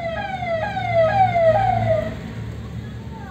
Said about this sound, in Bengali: সামনে গাড়ি আসছে, কীভাবে সাইড দিতে হয় দেখুন। অ্যাম্বুলেন্স আছে।